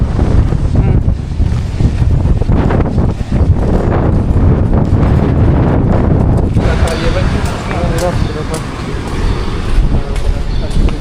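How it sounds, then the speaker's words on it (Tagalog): Strong typhoon wind buffets the microphone in a steady, loud roar, with gusty surges throughout and a faint voice heard partway through. "Grabe, lakas po ngayon ng hangin."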